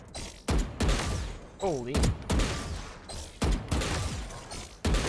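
Loud gunshots in a shooting video game, several sharp separate reports spaced about a second apart, with a brief voice exclamation between them.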